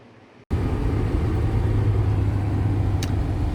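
A 1993 Chevrolet K1500 work truck drives on a test drive, heard from inside the cab as a steady low engine and road rumble that starts abruptly after a short quiet moment and holds constant.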